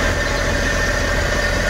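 A Suzuki DA64 engine idles steadily while still cold and running at a high idle, with a suspected bad turbo. It gives a continuous, even hum with faint vibration and no talking.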